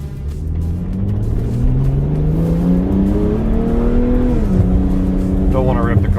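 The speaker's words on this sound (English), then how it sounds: "Don't want to rip the car too hard, it's not even warmed up yet." A car's engine revs steadily while still cold, its pitch climbing gradually before dropping back, a loud continuous rumble with faint talk underneath.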